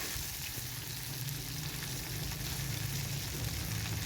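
Ivy gourd (kovakka) fries in a pan, a faint but continuous sizzle with a low, even texture and no voices.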